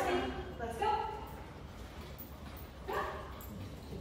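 Two excited dogs bark and whimper in short bursts during an outdoor leash-walking training session, with a person speaking over them.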